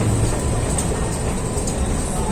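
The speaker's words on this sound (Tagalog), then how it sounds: "Ayan, dumating na yung tren." A train pulls into a station with a steady, loud rumble and hiss of wheels and carriages, constant throughout without letup.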